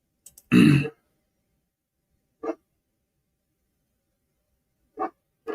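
A dog barks a few times at scattered intervals: one loud, close bark first, then three shorter, fainter barks spread over several seconds, with quiet in between.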